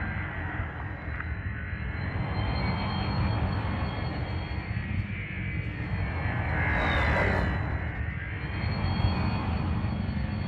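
A spaceship in the game Elite Dangerous flies through an orbital structure with a steady, loud engine roar that rises and swells midway, continuous and without talk.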